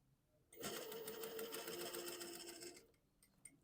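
A sewing machine runs a short continuous burst of stitching for about two seconds, close and steady, then stops, with faint clicks afterward during a sewing class.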